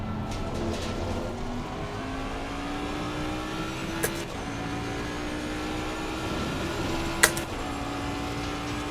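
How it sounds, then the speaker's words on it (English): Ferrari race car attempting to pass another car in a racing game, engine droning steadily with shifting revving pitch alongside other cars, with brief sharp transient bursts along the way. "Now the Ferrari's going to try to get around him, too."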